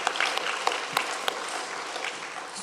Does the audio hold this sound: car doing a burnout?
no